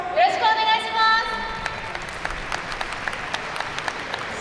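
An audience claps in steady rhythmic unison for a yosakoi dance team at an outdoor festival stage, the beat continuing after a brief amplified announcement voice at the start.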